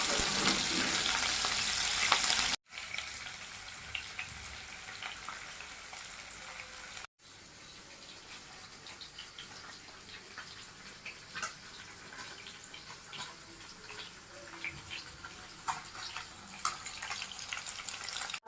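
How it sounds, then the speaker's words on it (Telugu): Paneer pieces fry in a pan over a medium flame, a steady close sizzle with crackling pops, busier in the first few seconds and then settling into a quieter, even hiss with scattered spits. "స్టవ్ని మీడియం ఫ్లేమ్లో పెట్టుకుని పన్నీర్ ముక్కలు వేయించుకోవాలండి."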